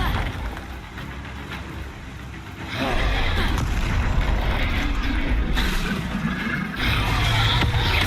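A Bombarda explosion spell bursts in Hogwarts Legacy, a loud broad boom rising sharply partway through and followed by rumbling blasts and combat noise, with brief voices underneath.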